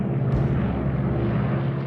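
RAF heavy bombers of the Second World War fly over during the Normandy invasion, their aircraft engines a loud, steady, droning roar that fills the short stretch without a break.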